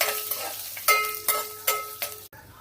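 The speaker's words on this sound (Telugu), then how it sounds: "కొంచెం కరివేపాకు, మంచిగా ఫ్రై చేసుకోవాలి." Curry leaves crackle and sizzle in hot oil in a small pan for a single serving of vamu (ajwain) rice. A spatula stirs through them in several bursts before the sound cuts off abruptly.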